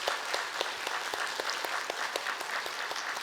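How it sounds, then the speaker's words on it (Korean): A church congregation gathered for an early-morning prayer service claps together in a steady round of applause, dense and evenly paced, filling the room for a few seconds. "영광의 박수 함께 돌려드리겠습니다"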